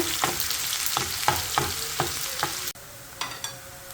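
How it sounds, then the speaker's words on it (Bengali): Onions sizzle and fry in hot oil in a pot, with steady crackling and repeated stirring scrapes roughly every half second, loud and close, with no talk. "তেলটা গরম হওয়ার সাথে সাথে দিয়ে দিলাম আমি পেঁয়াজ"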